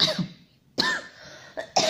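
Several sharp, close coughs come in quick bursts with brief silences between them, including a tight pair near the end.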